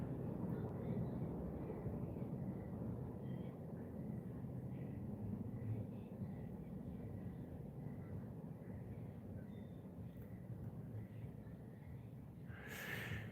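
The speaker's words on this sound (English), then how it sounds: "I'm glad you guys could hear those helicopters in the background." A low, steady rumble of distant helicopters drones throughout, faint and continuous, with a brief rustle near the end.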